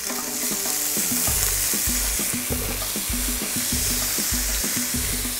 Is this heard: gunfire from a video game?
no